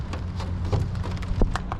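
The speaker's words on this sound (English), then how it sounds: "Dinking around in a metal boat in the middle of a thunderstorm." Rain and hail pelt a metal boat during a thunderstorm, a steady dense patter with a few sharper louder impacts, close and continuous with no talking.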